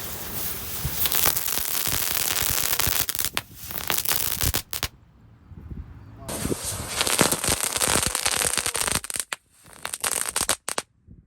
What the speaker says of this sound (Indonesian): kita nyalakan mercon bola ajaibnya